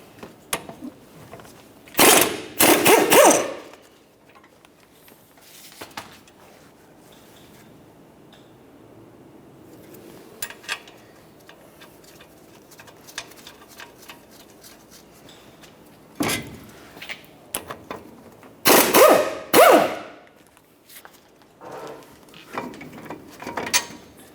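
Upper caliper bracket mounting bolt, 18mm, being removed from a 2004-2008 Ford F-150, with two loud bursts of impact or ratchet tool action separated by quieter handling and clinking, close by and with no talk.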